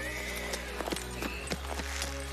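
Horse hooves clip-clopping in a medieval royal camp, with a brief whinny among irregular near hoof strikes over a steady low hum.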